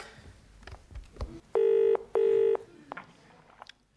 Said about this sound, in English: All right, Angela, get me Legrand on the phone.